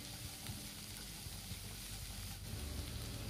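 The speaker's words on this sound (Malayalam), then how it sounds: "ഇനി ഉള്ളി കൂടെ ഇട്ട് കൊടുത്ത് ഒന്ന് ചെറുതായിട്ട് വഴറ്റിയെടുക്കുക." Onion, ginger and green chilli sautéing in a pan give a soft, steady sizzle with faint stirring, quiet and continuous throughout.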